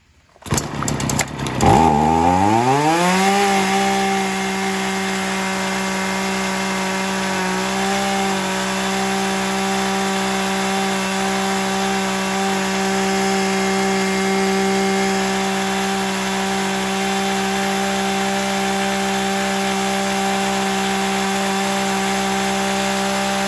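A large Japanese chainsaw with a power-assisted pull start fires up with a sharp rising rev. It then settles into a loud, steady, buzzing two-stroke drone that holds close and constant for a long stretch.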